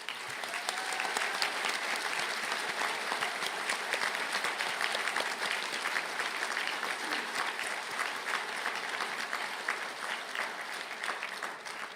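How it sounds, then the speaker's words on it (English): A large audience at a university graduation conferring ceremony gives sustained, dense applause that holds steady and loud from start to finish without a break. "to stand for a round of applause"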